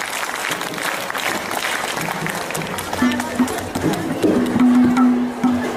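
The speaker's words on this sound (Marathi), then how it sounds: "त्या सर्व बालगोपाळांसाठी एकदा जोरदार टाळ्या होऊन जाऊ द्या" An audience at a children's school competition event breaking into sustained applause, a dense wash of clapping from a crowd, with a voice speaking over it.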